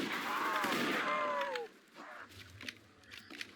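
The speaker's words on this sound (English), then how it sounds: "Now I can perish demons with a shotgun." A shotgun fires in a zombies video game on the Project Lazarus map: a loud burst of gunfire with whining, sweeping sound effects over it, then a drop to quieter game noise with faint thumps.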